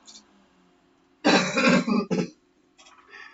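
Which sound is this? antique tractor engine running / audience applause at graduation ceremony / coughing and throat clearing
coughing and throat clearing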